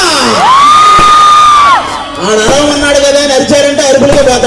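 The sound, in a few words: fans shouting and cheering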